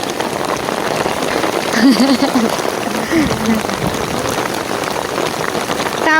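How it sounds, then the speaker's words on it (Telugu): Rain patters steadily on a surface close by, with a voice briefly rising over the downpour partway through. "ఇప్పుడైతే వాన వచ్చేసింది"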